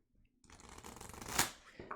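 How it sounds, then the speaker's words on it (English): A deck of art tarot cards gets side-shuffled at close range, a riffling, fluttering patter that builds to a crisp burst and then trails off, with no talking over it. "that side shuffle action right there"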